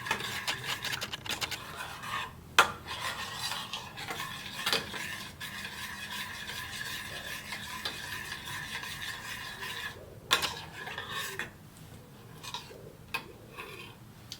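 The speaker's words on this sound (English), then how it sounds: "And we just keep on stirring. Exactly how you make white sauce." A spoon keeps stirring a seafood white sauce in a pot with steady scraping and rubbing against the metal, a soft sizzle underneath and occasional sharper clinks.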